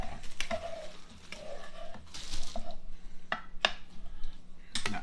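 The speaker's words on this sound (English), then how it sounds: "let's give her another stir" Pork chops with apple, bacon and blue cheese chutney are stirred in a pan, with scraping and clinking of the utensil against the cookware and a soft sizzle underneath, in short bursts.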